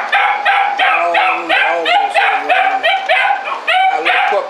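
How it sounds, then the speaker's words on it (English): A small puppy barks and yips rapidly and repeatedly, loud and close, with high whiny edges to each bark. "A little puppy in there raising hell."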